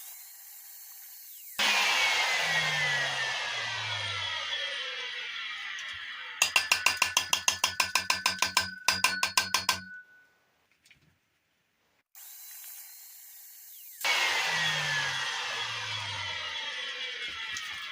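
An Intertool DT-1030 construction vacuum cleaner, clogged, starts with a loud whining roar, then gives a burst of rapid rattling clatter, cuts out to near silence, and starts up again.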